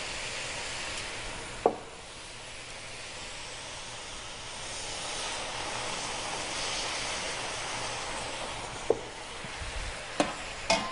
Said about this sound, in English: we're going to add our soy sauce and our cooking wine